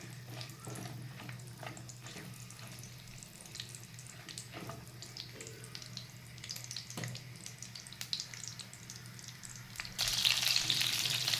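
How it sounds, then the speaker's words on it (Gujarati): Pointed gourd (parval) pieces frying in hot oil in a pan, a soft steady sizzle with occasional stirring clinks, faint at first and swelling into a louder hiss near the end. "જો ફ્રેન્ડ્સ તેલ થઈ ગયું છે તો આ જે પરવર હતા એ બધા એમાં એડ કરી દેવાના"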